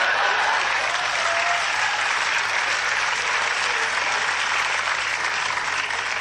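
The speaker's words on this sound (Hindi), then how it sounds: "देखो सिर्फ गरीब लोग ताली बजा रहे हैं।" Steady, dense applause from a comedy show audience fills the whole stretch at close range, loud and even from start to finish with no talk over it.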